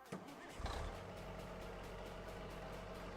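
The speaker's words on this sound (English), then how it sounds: "We're gonna get us an engine sound right here." A vehicle engine idling in the farming game Farming Simulator 25 (Plains and Prairies), a low, steady rumbling drone that starts up after a brief clunk and holds evenly, fairly close.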